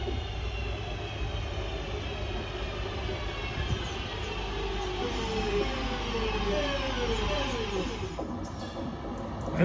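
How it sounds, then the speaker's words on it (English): A Pendolino train rumbles slowly and steadily through Kidsgrove station, with a low continuous roar and faint squealing wheels, no voices nearby. "this train is being taken very slowly through Kidsgrove"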